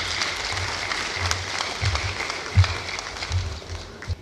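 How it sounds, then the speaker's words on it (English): Audience at an accountants' conference plenary session applauding, a soft steady patter of clapping from a crowd throughout, fairly distant. "A round of applause for him, please."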